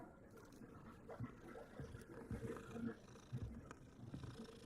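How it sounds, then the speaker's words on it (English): Several cats purr in Hogwarts Legacy, a low, soft rumbling with rhythmic pulses heard faintly behind a quiet game soundscape, with no talking over it. "Look at all these kitty cats."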